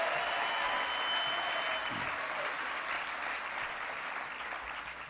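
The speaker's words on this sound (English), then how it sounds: "let's give a round of applause to the new Executive Director, Charlie King" Convention audience at a New York Democratic state convention applauding a newly introduced executive director, a dense, sustained roar of clapping that gradually tapers off toward the end.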